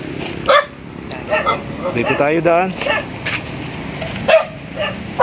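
A dog barks and yips a few times in short bursts near the listener while people talk over it.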